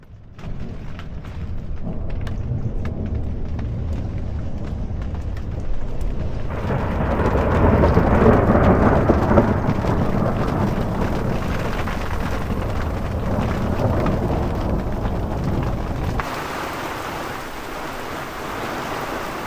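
Heavy rain pours down on a sailboat while thunder rolls and booms, a dense, loud wash of rainfall with deep rumbling swells that builds toward the middle and then eases.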